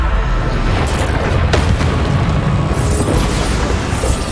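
The Bombarda spell in Hogwarts Legacy blasts with a loud, continuous booming roar, punctuated by a couple of sharper cracks amid the dense rumble of battle.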